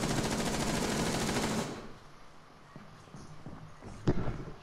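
Gunfire in Rainbow Six Siege, a loud rapid automatic burst for about a second and a half, then quiet with a few scattered taps and one sharp final shot.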